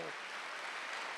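A church congregation at a Wednesday worship service breaks into applause, a dense, even patter of many hands that fills the short moment at a steady level.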